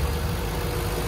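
A Jaguar 4.0 V8 car engine idles with its hood open, a steady, low, rumbling hum heard close up and alone for about a second.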